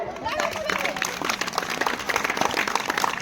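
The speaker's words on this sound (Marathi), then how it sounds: "आपल्या टाळ्या या खेळाडूंचं मनोबल वाढवत असतात" Spectators at a school taluka-level final match applaud, a steady crowd of clapping hands with an announcer's voice speaking over the applause.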